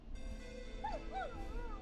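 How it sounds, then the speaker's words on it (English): A neighbor's dog in the video game Killer Frequency gives two short, rising whimpering yips over a steady low background hum, fairly close and moderately loud. "Is that a neighbor's dog?"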